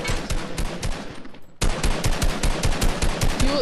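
Rapid automatic infantry rifle fire in a video game, loud close bursts of evenly spaced shots that pause briefly, then resume in a dense continuous stream.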